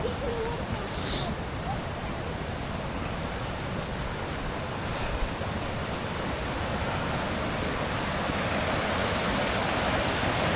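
Toorongo Falls, a waterfall, gives off a steady, dense roar of rushing water that fills the whole stretch evenly, constant and fairly near, with no clear breaks.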